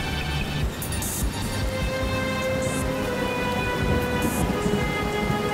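A steady downpour of rain hisses continuously, with low thunder rumbling beneath it, in a storm scene from an animated cartoon; no voices.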